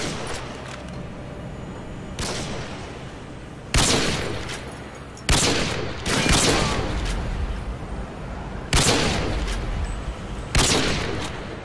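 Video game gunfire in Ultimate Rush Slap plays as bursts of sharp, loud volleys at irregular intervals, with fainter shots between them.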